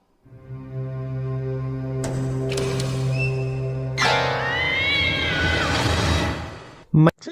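A voice imitates a cat in a horror video game, drawing out a few wavering meows over steady game music, ending with a short loud burst.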